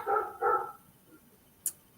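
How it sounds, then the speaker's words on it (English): A dog barks from some distance, giving two quick barks and then falling quiet, followed by one faint sharp click. "Someone's dog is going crazy."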